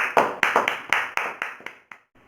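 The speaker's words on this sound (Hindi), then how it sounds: "तालियां देवी और सज्जनों" About nine sharp, separate claps sound on an online quiz show after a prize is won, each decaying quickly. They come in a quick uneven series, then taper off into near silence.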